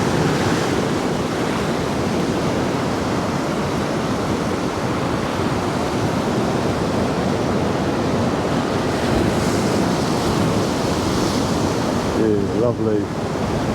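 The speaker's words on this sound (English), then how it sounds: "I love it when the water cascades over the concrete seats as well." Storm waves crash against the Paphos seafront in gale conditions, a loud roaring wash of surf and wind buffeting the microphone, continuous and near, with someone briefly speaking near the end.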